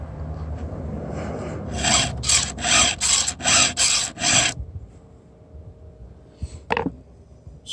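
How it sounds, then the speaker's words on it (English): A new hand file is drawn across a hard Carlton ripping chain for a chainsaw, held over a vise, in several close, raspy strokes. The strokes follow quieter rubbing, and a faint sound comes later. "So that was 4 swipes with a new file."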